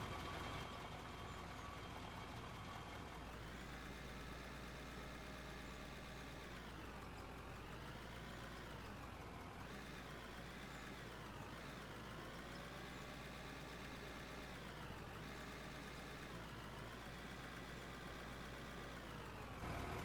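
Truck engine idling in the video game Out of Ore, a steady low diesel rumble that repeatedly rises and falls in pitch with light revving, heard alone without voices.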